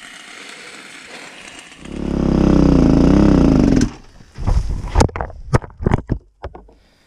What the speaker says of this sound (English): This is my very first ride of my brand new KTM 350